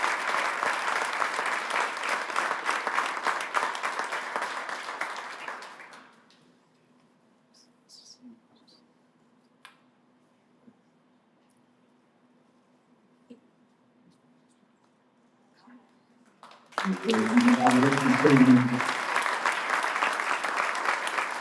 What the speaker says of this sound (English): Everybody, please give a huge round of applause for Cameron